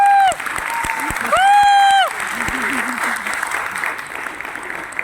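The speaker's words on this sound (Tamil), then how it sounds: "என் கவிதைக்கு ஒரு கைத்தட்டு கொடுங்கள் போதும்" An audience at a Tamil poetry recital applauds a poem, clapping and crowd noise continuing beneath a loud, amplified voice speaking in bursts over a public address system.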